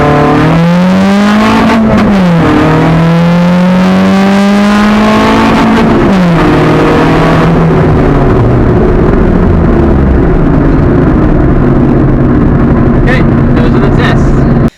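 Honda Civic EG project track car with 225/50 tyres launched from 4,000 RPM and accelerating to 60, the engine rising in pitch through the gears with sharp drops at each shift, loud and close, fading toward steady road roar.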